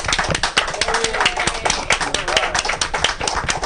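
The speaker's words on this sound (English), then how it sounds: "let's give a big round of applause to our authors, Anne Zalkind and Dr. Diana Clark." An audience applauds two authors at a book event, a dense, steady patter of many hands clapping close by for the whole stretch, with some voices mixed in underneath.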